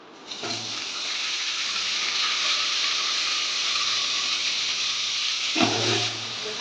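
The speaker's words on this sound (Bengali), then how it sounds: "জিরে ফোড়ন দিচ্ছি" Cumin seeds tempering in hot oil on a home stove give off a steady, close, loud hiss and sizzle that holds for several seconds, with a brief stronger crackle near the end.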